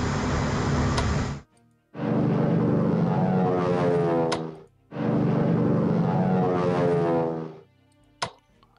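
Warplanes attack in the WWII strategy game Strategic Command WWII, a loud game sound effect heard as two long roaring bursts, each about 2.5 seconds, split by short gaps, with a sharp click near the end.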